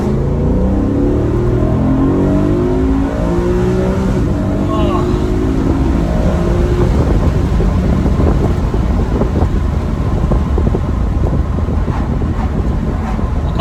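A BMW M3 E93 convertible with its V8 engine pulls hard with the windows down, a loud, rising engine roar mixed with heavy wind rush, steady from start to finish.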